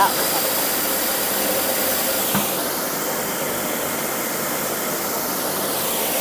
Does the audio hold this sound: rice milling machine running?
yes